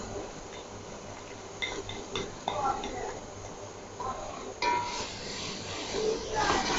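A yogurt and spice mixture poured into softened masala in a pan and stirred, with scraping spoon clinks and metal knocks against the pan, faint sizzling beneath, and someone talking throughout.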